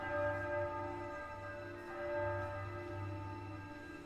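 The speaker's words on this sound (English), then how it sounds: "That's the bell at Ironstone." A deep bell tolls at Ironstone at midnight in the video game Triangle Strategy, its low, sustained strikes swelling and fading in slow repeated pulses over a steady hum of ringing overtones.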